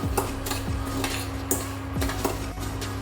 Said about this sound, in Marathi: आता त्या तुपावर मी रवा तातून घेते